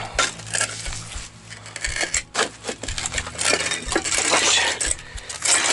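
Metal door handle and debris clinking and scraping among broken glass and scrap in an underground fortress passage, irregular close clatters and knocks throughout, with a brief spoken word.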